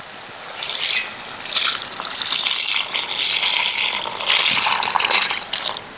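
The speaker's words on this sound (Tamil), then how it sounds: "இப்போ நாங்கள் பால் அப்படியே வடித்து ஊற்றிடுவோம்" Milk pours steadily into a pot with a soft, continuous splashing gush that swells and eases a few times, close by, with no talking.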